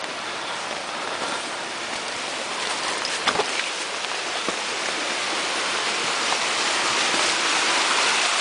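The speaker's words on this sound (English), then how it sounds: "you can see that the water is actually coming down the hill" Floodwater pours steadily down a hillside from an old stream gully onto a residential property, a loud, continuous rushing roar with no pauses, close by and with no talk over it.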